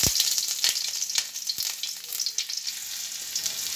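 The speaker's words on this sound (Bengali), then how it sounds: "পেঁয়াজ কুচি আর জিরাটা একটু ভালোমতো ভাজি করে নিতে হবে" Chopped onion and whole cumin seeds fry in hot oil on a stove, a steady close sizzle with scattered crackles and occasional stirring scrapes throughout.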